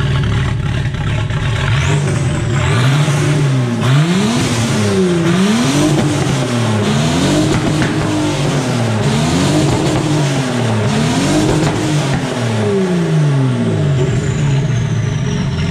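A rebuilt Citroën Traction with a V12 bi-turbo engine runs steadily at idle, close and loud, with a rising and falling rev pattern swinging up and down in repeated waves.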